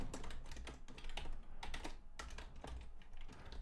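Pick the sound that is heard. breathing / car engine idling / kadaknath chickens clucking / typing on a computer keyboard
typing on a computer keyboard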